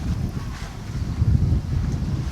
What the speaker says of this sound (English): I'm in the shade and it's windy.